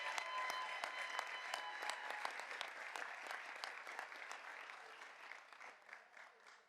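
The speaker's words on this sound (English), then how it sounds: "Another round of applause, please." Sustained applause from an audience honouring award winners at a Board of Education recognition meeting, a dense, even patter of many hands heard from a slight distance, tapering off at the end.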